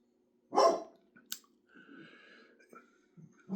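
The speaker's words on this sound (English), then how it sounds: "Oops, there's my puppy. He saw something." A puppy gives one sharp, close bark that stands out loudly, followed by quieter rustling and faint clicks in an otherwise calm room.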